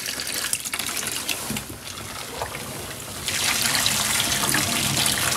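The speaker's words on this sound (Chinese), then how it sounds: "水给它冲足了，再把水给它放过来。" Tap water runs steadily into a sink while lamb offal is rinsed in a home kitchen, a moderate gushing splash that grows louder and fuller partway through as the flow increases.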